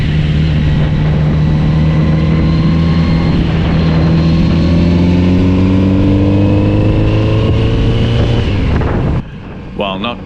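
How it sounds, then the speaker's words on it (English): Kawasaki Z900RS four-cylinder motorcycle exhaust and intake while riding, a loud, smooth, steady drone that rises gradually in pitch under acceleration before easing off near the end. "the sound of the exhaust and intake noise while riding this buttery smooth sounding 4-cylinder dream machine"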